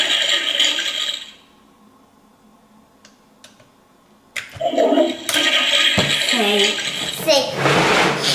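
A Toilet Trouble toy party game plays its flush sound effect, a loud swirling burst ending abruptly, followed by quiet clicks, then plastic rattling and a second noisy flush-like rush with clattering at the close.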